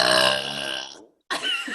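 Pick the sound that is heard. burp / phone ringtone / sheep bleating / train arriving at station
burp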